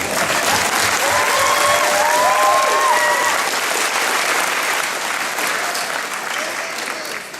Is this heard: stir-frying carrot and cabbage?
no